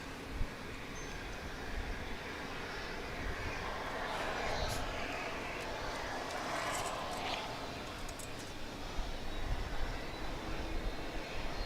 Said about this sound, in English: here comes the UPS MD-11